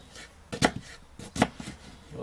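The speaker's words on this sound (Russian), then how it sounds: "Нарезаем крупно лук такими крупными кубиками, скажем, по сантиметру где-то." A knife chops onion into large cubes on a cutting board, giving a few sharp, close knocks at an uneven pace with quiet pauses between them.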